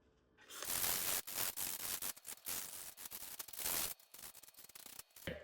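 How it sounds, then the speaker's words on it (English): Sandpaper of 320 grit scuffs the surface of a 3D-printed helmet in steady, close back-and-forth rasping strokes, loud and continuous for about four seconds, then a few shorter rubs before it stops. "It's gonna get scuffed with 320 grit sandpaper so that the primer sticks better"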